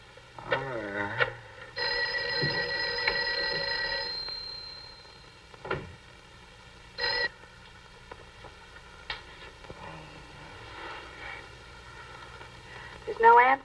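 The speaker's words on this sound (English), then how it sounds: "Mary, see if you can get Jan on the phone." An old-fashioned telephone bell in a 1959 horror film rings in one sustained burst of about two seconds, then the line stays quiet and unanswered, with only faint room sounds and brief soft noises afterward.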